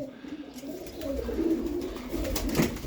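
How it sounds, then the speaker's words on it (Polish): Soft, low pigeon cooing rolls on steadily, a few burbling calls overlapping against a faint background hum. "Jest kilka opornych gołębi jeszcze."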